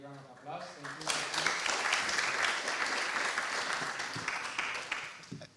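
Applause rises and holds from an audience at a nutrition scale-up challenge awards ceremony as the next presenter is called up, building quickly to a full, dense wash of clapping that eases slightly toward the end.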